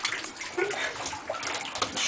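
Water pours steadily indoors like a small waterfall, a continuous close splashing rush with a few irregular splats and sloshes, and no one speaking.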